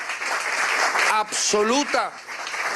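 A crowd applauds at a Venezuelan election event. Steady clapping runs the whole way through, while a voice speaks over it near the middle.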